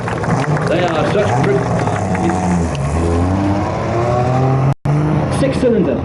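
A six-cylinder 1.97 litre, 80 horsepower race car drives past at a museum demo day, its engine note rising and falling through revs beneath people talking nearby.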